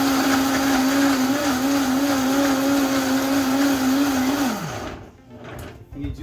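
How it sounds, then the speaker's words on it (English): A blender runs loud and steady, grinding almonds with filtered water into almond milk, then winds down and stops near the end. "So almond milk, you put in your blender"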